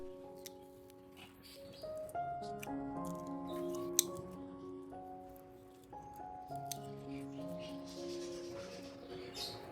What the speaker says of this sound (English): Now let's gently cut off all the dried and dead roots.